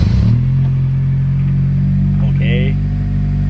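An Acura RSX Type-S engine cranks and catches, then settles into a steady, loud idle close by. A short chirp cuts in near the end.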